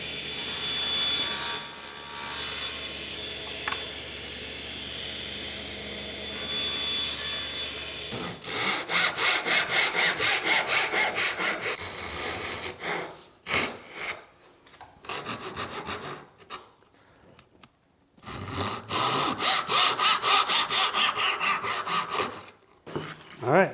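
A hand saw cuts wooden tenons for a Japanese-style end table, first a steady rasping stroke, then rhythmic back-and-forth sawing in loud bursts separated by short pauses, close up with no talking.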